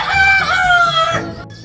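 A close, loud rooster-like call with drawn-out tonal notes, joined by chickens clucking, fading toward the end.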